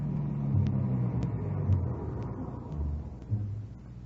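A car drives along and pulls up in an old radio crime drama sound effect, heard as a low, steady engine rumble that swells slightly a few times and stays moderately loud throughout.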